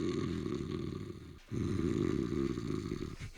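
A man imitates snoring, loud drawn-out rasping snores in two long breaths with a brief pause between them.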